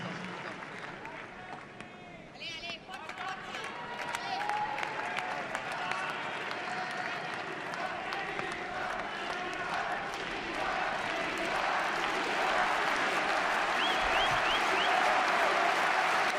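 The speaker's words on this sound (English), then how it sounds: "Plenty of support for Swiatek from the crowd." A large Roland-Garros crowd at the women's tennis final applauds and cheers in sustained support of Swiatek, the clapping swelling from moderate to a dense, loud roar that runs steadily to the end, with commentary voices underneath.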